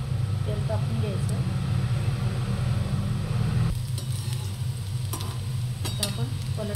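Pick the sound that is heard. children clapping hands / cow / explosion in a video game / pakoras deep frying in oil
pakoras deep frying in oil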